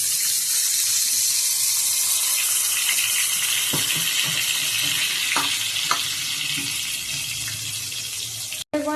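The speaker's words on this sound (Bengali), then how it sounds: "আলু ভাজতে, এখন আলু ভাজা হয়ে গেছে, আলুটা ভাজা হয়ে গেছে, তুলে নিচ্ছি।" Sliced potatoes frying in oil send up a loud, continuous crackling sizzle with a few sharp taps and scrapes of a spatula mixed in, heard close up without speech.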